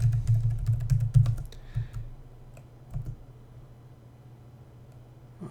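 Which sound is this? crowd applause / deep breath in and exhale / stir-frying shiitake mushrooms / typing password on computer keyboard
typing password on computer keyboard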